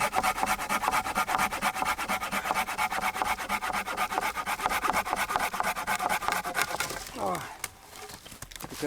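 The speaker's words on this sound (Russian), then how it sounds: "Пилит замечательно." A hand saw rasps through dry standing deadwood in a damp taiga forest in Komi, with steady rapid back-and-forth strokes, close and fairly loud, slowing and stopping near the end.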